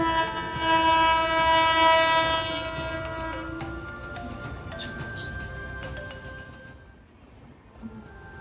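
At a closed level crossing on a route from Nepal to India, a train sounds a loud, sustained horn, then rumbles past with rattling wagons that fade away, with voices faint underneath.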